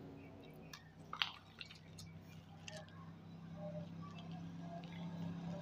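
Lacquer polish liquid for wood is poured slowly, giving faint drips and a quiet liquid trickle against a low background hum.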